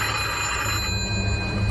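Telephone ringing inside an abandoned building, a steady electronic ring with sustained tones that keeps going throughout against low background rumble.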